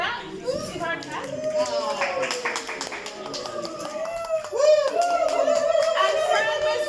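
A group claps for Becky, a helper at a fan-making event with a choir; scattered clapping and taps blend with children's chatter and voices throughout.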